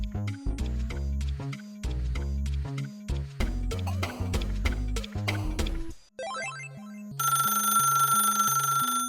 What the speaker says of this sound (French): Avec sa sonnerie métallique et son cordon spiralé qui finissait toujours emmêlé, composer un numéro sur un téléphone à cadran prenait un peu de temps.